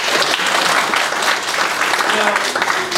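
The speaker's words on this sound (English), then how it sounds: "Another round of applause for Jake." Loud, sustained audience applause fills a Sunday Assembly hall, dense clapping from a sizable crowd continuing steadily throughout, with a faint voice surfacing near the end.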